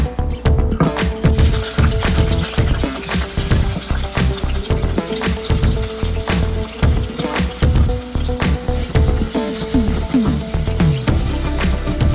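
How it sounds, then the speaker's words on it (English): Fried dumplings, ackee and salt fish cooking in hot oil in a Jamaican kitchen, sizzling loudly and steadily throughout with clinks and stirring sounds mixed in, close up, with no talking. "Once the oil is hot, I'm gonna put everything in and let it simmer."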